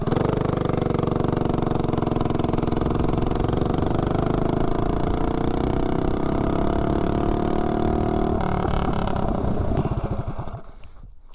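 A mini bike engine running on VP Racing 20% nitro fuel revs loudly and steadily for about ten seconds with a rising, buzzy pitch, then cuts out and fades.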